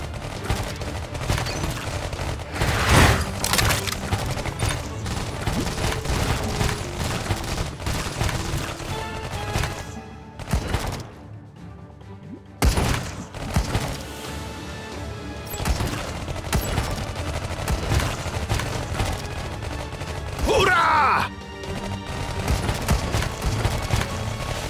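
Iron Marines game combat brings repeated booming blasts and bursts of gunfire, loud and dense, with a brief lull midway before the firing and explosions resume.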